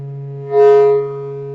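A Lifeforms SV-1 synthesizer holds a steady, buzzy hum with stacked harmonics, swelling brighter and richer for about half a second as a control is turned up, then settling back to the sustained drone.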